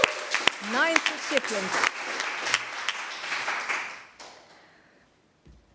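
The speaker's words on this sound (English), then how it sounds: "Warm applause for Erik Frenken" Audience applause for award recipient Erik Frenken at the 10th Cultuurfonds Mode Stipendium fashion celebration, a moderate patter of clapping mixed with someone speaking over it, fading out after about four seconds to near silence.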